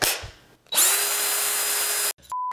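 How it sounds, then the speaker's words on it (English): A power drill bores holes into a wall while brick-style foam board paneling is fixed up. It gives a short burst, then one long steady whine, then a brief final buzz, close and loud with no talking. "drilling holes into a wall"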